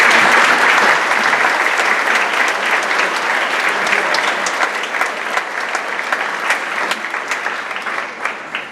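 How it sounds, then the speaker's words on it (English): A crowd at an eighth grade promotion ceremony claps for parents and faculty, a loud, full wash of applause that gradually thins into scattered individual claps toward the end. "I'd like to give both parents and faculty a round of applause for their steady leadership."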